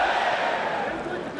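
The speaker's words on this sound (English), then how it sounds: "Crowd's going nuts." Loud roaring arena crowd at a Pride FC 11 mixed martial arts event in Japan, a dense sustained wash of shouting and cheering that stays strong throughout, slightly easing toward the end.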